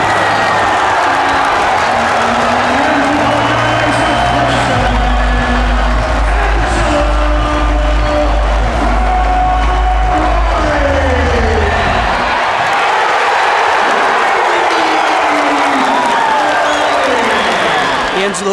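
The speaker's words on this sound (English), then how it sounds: "the fans were going nuts the entire third period, just egging him on to get that tech fall" College wrestling dual meet crowd roaring and applauding continuously, a dense loud wash of cheers, whoops and shouting throughout, with a low crowd rumble swelling in the middle.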